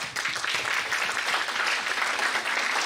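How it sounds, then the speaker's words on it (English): Audience applause at an international conference, steady broadband clapping from a large crowd throughout, close and fairly loud. "Round of applause."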